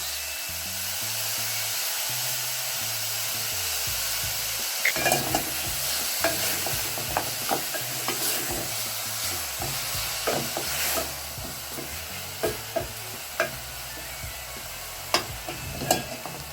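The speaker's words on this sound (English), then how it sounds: "So you can see it's already cooking in its own juices" Beef searing in a pot in its own juices, a steady loud sizzle and hiss broken by scattered pops and crackles, with no talking.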